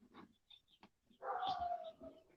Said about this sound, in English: they're barking at my dog next door